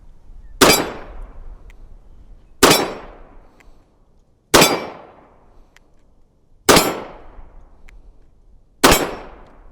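Five evenly spaced, sharp, loud shots from a Walther WMP .22 Magnum pistol loaded with Hornady Critical Defense ammunition, each a cracking report with a ringing decay, fired alone outdoors.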